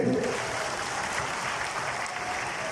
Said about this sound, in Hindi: जोर से ताली बजाइए रिंकी जी के लिए